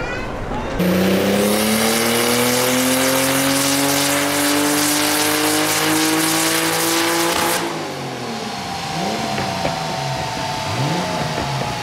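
A Porsche 911 930 Turbo engine idles and revs with a deep, throaty roar that rises then settles, heard up close with some background noise.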